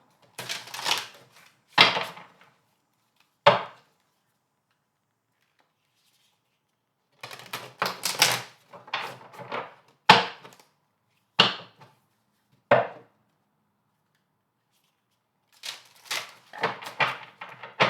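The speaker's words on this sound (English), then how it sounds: "let's just shuffle the deck a little bit and pull a card" Bursts of crisp riffling and flapping, card shuffling in several short rounds separated by silent pauses, close and fairly loud.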